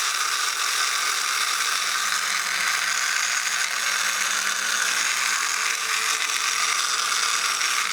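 A 1955 electric toy robot with all-metal gears and construction runs on a 1.5-volt motor. Its tire turns and its crank moves with a continuous close-up mechanical whir and a fine rattling buzz, steady throughout.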